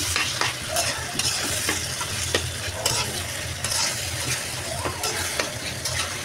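Chopped tomato stir-fried in a pan, loud close sizzling with constant scraping and clattering of a spatula against the pan in an uneven rhythm, no voices.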